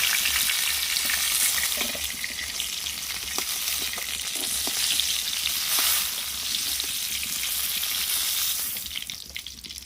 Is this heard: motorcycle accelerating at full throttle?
no